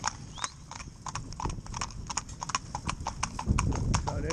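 Horses pulling a carriage on a road clip-clop in a quick, steady rhythm of hard hoof strikes, close and clear, with faint talk underneath.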